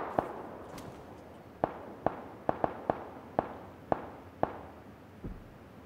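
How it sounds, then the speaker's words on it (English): Sharp gunshots crack out one after another in the video game PUBG, about nine in an irregular burst, each with a short echoing tail over a quiet background. "so much gunfire going on."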